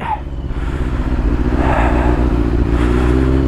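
A motorcycle engine runs loudly up close in snowy weather, a steady throaty rumble with a slight rise in revs partway through.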